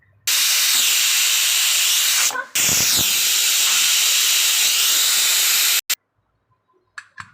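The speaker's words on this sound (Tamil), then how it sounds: "மூணு விசில் விட்டாச்சு" A pressure cooker whistle releases a loud, steady jet of escaping steam for several seconds, with a brief dip partway through, then cuts off abruptly.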